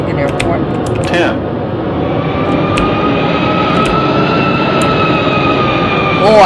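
A Boeing 717 airliner touching down in a flight simulator game, a loud, steady jet engine roar with a high whine running throughout the landing, brief clicks near the start and a rising tone at the end.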